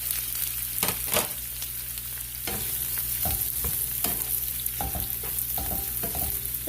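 Ground pork stir-frying in a pan for a dish with green beans: a steady sizzling hiss with sharp utensil scrapes and clacks against the pan at irregular intervals, up close.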